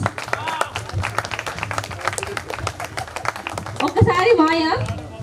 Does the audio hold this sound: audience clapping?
yes